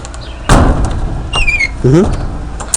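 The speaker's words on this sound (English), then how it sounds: "Close the door." A door at a country homestead is pulled shut with a solid thud, followed by squeaky creaks and chirps while a person talks nearby.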